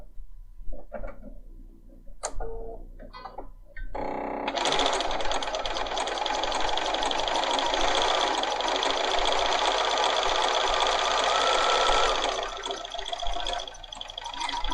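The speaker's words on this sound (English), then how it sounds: "I'm going to sew this seam" A Bernina 500 series sewing machine stitching a seam in fabric, starting after a few light clicks and then running steadily for about eight seconds as a close, even, rapid mechanical whir before slowing at the end.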